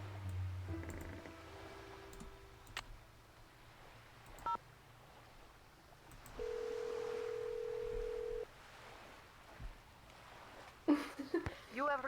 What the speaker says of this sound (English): let's make some phone calls